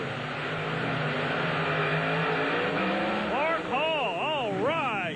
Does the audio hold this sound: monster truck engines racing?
yes